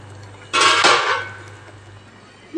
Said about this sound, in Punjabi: ਇਹਨੂੰ ਕਿਸੇ ਭਾਂਡੇ ਦੇ ਵਿੱਚ ਕੱਢ ਲੈਣੇ ਆ